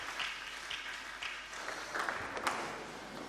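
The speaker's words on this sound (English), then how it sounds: "Please, a round of applause to that lady from the best university in Nigeria" Audience applause for a woman from a Nigerian university who has just sung, a steady round of clapping with a few sharper individual claps standing out near the end.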